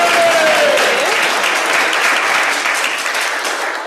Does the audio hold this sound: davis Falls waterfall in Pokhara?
no